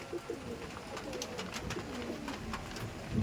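A black-eyed Jira pigeon cooing softly nearby, low murmuring coos repeating over a quiet background, with no one speaking.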